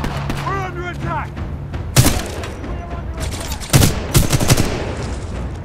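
Video game gunfire from Titanfall 2: bursts of rapid automatic fire and sharp shots crackle under game voices and effects, with louder impacts near the middle and end.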